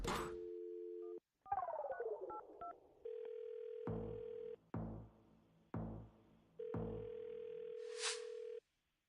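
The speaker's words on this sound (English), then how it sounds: "I'm going to dial the phone up right now." A telephone number is dialed: a dial tone, a quick run of DTMF keypad beeps, then a series of ringback tones with pauses, heard clearly with no talking over it.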